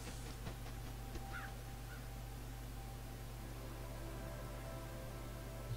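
A few faint, brief caws from a bird in the video game Little Kite, heard early on over a steady low hum and hiss.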